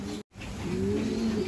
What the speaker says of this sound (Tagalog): Ito yung ibon ni Paring Peter na nanalo.